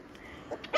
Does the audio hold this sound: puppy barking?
yes